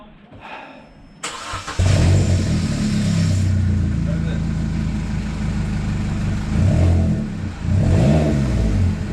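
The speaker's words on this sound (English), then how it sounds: "Don't rev up too much." A 2009 Vauxhall Corsa D with a newly fitted exhaust starts up and revs close by, the engine's deep rumble rising and falling through several revs before easing back toward idle, with voices talking over it.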